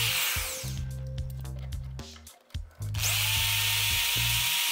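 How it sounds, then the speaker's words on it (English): A power drill bores holes through an SD card in two loud bursts of whining motor and grinding, with a brief pause and spin-down between them. "Hold it and drill several holes through the SD card."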